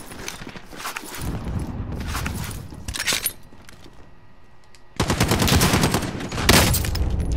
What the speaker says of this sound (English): Oh, I'm getting sniped.